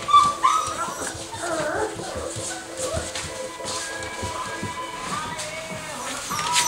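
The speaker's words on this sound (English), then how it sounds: "You're a big old puppy." A puppy whimpers and yips in short, irregular bursts close by, while a person talks over it in a lively indoor setting.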